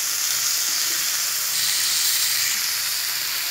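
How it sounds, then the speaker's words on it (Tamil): Boneless fish pieces frying in a pan give a dense, even hiss of hot oil, loud and close, steady throughout with no talking over it. "1-2 நிமிஷம் ஆயிடுச்சு, நம்ம இப்படி டேர்ன் பண்ணிக்கிறோம்."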